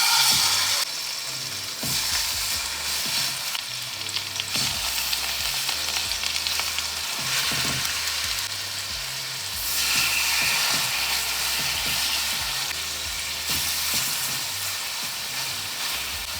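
Pork searing in vegetable oil for Jamaican brown stew pork, a steady loud sizzle and hiss throughout with occasional stirring scrapes, swelling louder midway as the meat settles into the hot oil.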